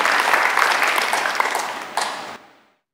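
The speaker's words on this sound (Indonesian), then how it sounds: "Beri tepuk tangan bagi Tuhan." Church congregation applauding during a Sunday worship service, dense steady clapping that swells and then fades out near the end, with no talking over it.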